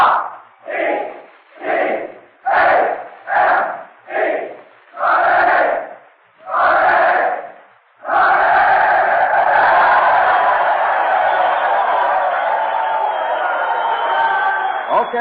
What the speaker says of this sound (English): here we go now with a cheer from the men of Notre Dame